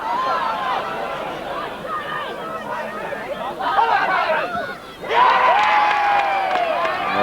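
Donegal supporters cheering at a 1985 Gaelic football Ford Cup match between Donegal and Fermanagh, a large outdoor crowd roaring and swelling in waves, louder toward the end, with a commentator talking over it.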